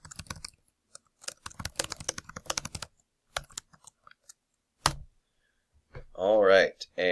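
Someone types a chat message in Microsoft Teams on a computer keyboard, bursts of quick key clicks separated by pauses, ending in a brief spoken voice.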